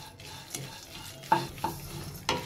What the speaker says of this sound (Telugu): ఇది కూడా ఒక 2 మినిట్స్ అలా ఫ్రై చేసుకుందామండి